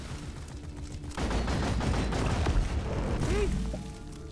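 Gunshots in a video game, a bug-fighting shooter, break out as a dense, sustained volley of rapid shots after a quieter start, loud and near, with a rising synthetic tone near the end.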